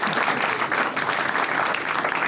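Applause from a comedy club audience, a dense, even wash of many hands clapping at once, loud and sustained without a break.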